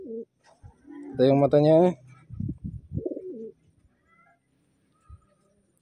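Low cooing from a large checkered pigeon on a farm, a few soft rolling coos under and between a man's nearby speech, then quiet.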